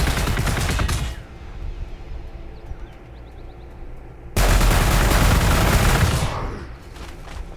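Overwatch gunfire in the Warhammer 40k Gladius video game, two loud sustained volleys of rattling automatic shots separated by a quieter gap of a few seconds.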